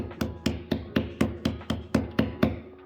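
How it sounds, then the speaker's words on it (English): A hand pats the top of a wet, freshly formed clay pottery piece about ten times in an even rhythm, each slap close, crisp and fairly loud with a short decay, no voices. "Turn it off and give the top of it a couple pats."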